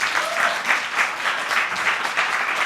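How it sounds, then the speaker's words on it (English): Steady, close applause from a conference plenary audience, a continuous wash of clapping with a gently pulsing rhythm throughout. "so this applause is for them as well"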